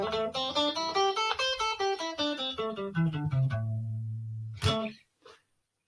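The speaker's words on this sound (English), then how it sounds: "This is called the minor pentatonic." A guitar plays the minor pentatonic scale in a workshop lesson, a clean run of single picked notes climbing and then descending, ending on a sustained low note and a final strum, with no talking.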